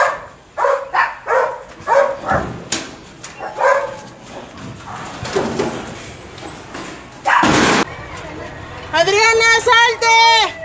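Small dogs bark and yelp repeatedly at night during a strong earthquake, with frantic voices talking over them, a rattling bang partway through and a burst of high yips at the end.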